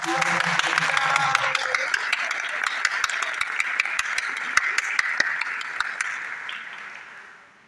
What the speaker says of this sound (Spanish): Por favor, quiero que recibamos con un aplauso al docente Daniel Cruz